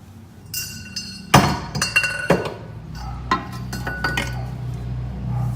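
Rusted exhaust bolts on a 300ZX being worked loose with a breaker bar during an engine removal, giving a few sharp, close metallic clanks and clinks, then softer scattered taps of metal on metal.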